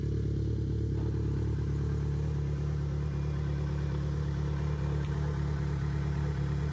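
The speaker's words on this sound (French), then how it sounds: "Le ventilo tourne toujours." A steady, low mechanical hum of a Yamaha XJ6 motorcycle's radiator cooling fan and engine running, constant and unchanging, with faint clatter in the background.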